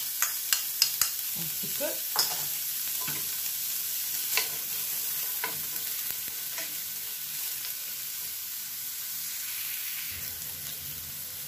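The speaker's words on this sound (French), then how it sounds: "je vais commencer par faire revenir donc l'oignon" Onion is sautéed in a pan with a steady close sizzle, with a few spoon taps and knocks early on and a brief murmured voice at the start.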